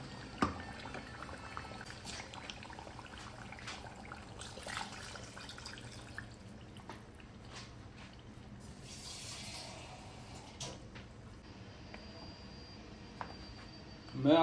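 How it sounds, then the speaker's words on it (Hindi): Water poured into a pot of spice-fried goat trotters for paya nihari, a soft running splash and trickle with scattered clinks, close and fairly quiet. "अब हम डालेंगे पानी"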